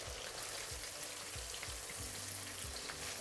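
Pork chops on their first deep fry in oil make a constant, faint hissing bubble, carried quietly over soft low background music with no voices.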